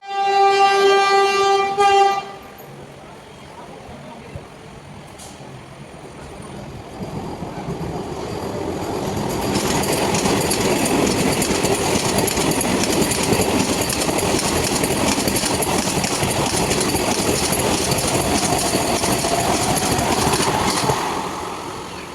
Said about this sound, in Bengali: এখন পাস করবে হচ্ছে পাটনা হাওড়া বন্দে ভারত এক্সপ্রেস 223488